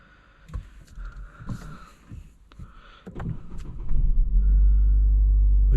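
A car engine cranks and catches on a car with a transmission malfunction, building from cabin rustling into a loud, steady low rumble of idling close by, with no talking.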